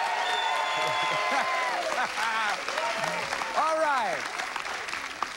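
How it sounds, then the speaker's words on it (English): A studio audience on the Card Sharks game show applauds steadily while someone talks over the clapping, his voice prominent above the crowd. "Let's have a nice round of applause"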